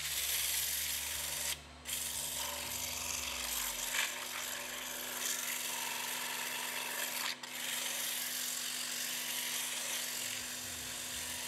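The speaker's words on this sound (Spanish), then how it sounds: "vamos a rematar ahora con un poquito de lija" A wooden plate on a lathe is sanded with sandpaper, producing a steady, close rubbing hiss over the motor's constant hum, with two brief breaks as the paper lifts away.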